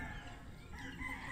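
Gamefowl chickens of breeds such as Gilmore, Kelso and Sweater cluck and crow faintly on a farm, mixed into a low, busy outdoor background.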